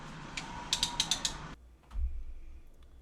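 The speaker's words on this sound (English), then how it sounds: "I'm going to do another 90-degree tighten in alphabetical order." Ratchet clicking in a quick burst of about five sharp pawl clicks, close and clear, as a Subaru cylinder head bolt is turned another 90 degrees during a head installation, then a low rumble and quiet.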